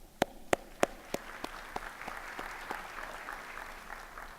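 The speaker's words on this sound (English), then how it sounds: "let me give you my round of applause." Applause at a Buffalo State campus address, opening with a few loud, sharp, spaced claps that give way to quieter, softer clapping from a crowd, fading toward the end.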